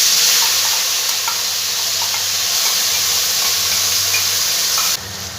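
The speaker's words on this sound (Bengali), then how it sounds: "মশলা ধোয়া জলটা আমি দিয়ে দিলাম।" Spice-wash water poured into a hot cooking pan while making dudh rui (rohu fish in milk), a loud continuous hissing sizzle that holds steady and drops off sharply near the end.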